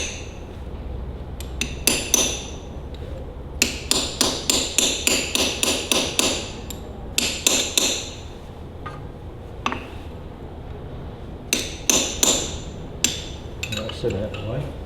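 Sharp metallic hammer blows bending tabs on a rusty Ferguson TEA20 tractor's hydraulic unit, landing in quick rhythmic bursts of several strikes with short pauses between, close and loud over a quiet workshop background.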